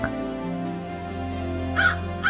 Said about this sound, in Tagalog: ay may isang uwak.